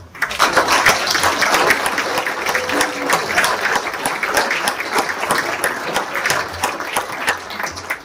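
Lively audience applause for school staff at a New Year's greetings ceremony, brisk clapping from a sizable crowd holding steady for several seconds with no talking.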